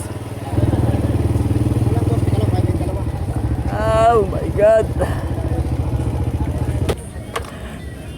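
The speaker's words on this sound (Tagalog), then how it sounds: "Teka, kunin ko yung motor ko ha." A motorcycle engine starts with a thump, idles in a rough steady chug close by, then revs briefly, while voices talk and exclaim over it.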